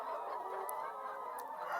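About a thousand hens on a poultry farm feed in the early morning, making a faint, dense murmur of clucks and soft calls with a few sharper cries.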